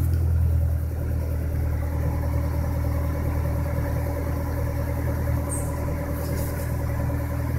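A car engine idles steadily with the air conditioning running at maximum while the steering wheel is forced; the low, even hum holds with only a slight dip in revs and no voices.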